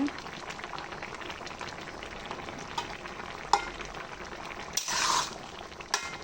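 Raw onions go into a bottle gourd and shrimp curry cooking in a pan; a steady low sizzle swells into a brief louder hiss as they hit, with a few scattered clinks.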